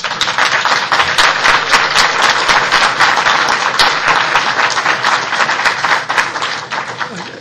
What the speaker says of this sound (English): Applause is appropriate.